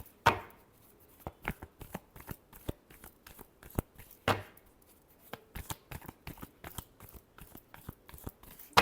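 Tarot cards being shuffled by hand: two longer riffling bursts among a series of quick, crisp card snaps and taps, close and clear with no talking.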